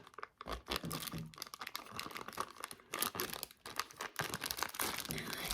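A plastic zip bag filled with Orbeez is zipped shut and handled, giving a dense run of close crinkling and crackling plastic with a few brief pauses, loud and continuous with no talk.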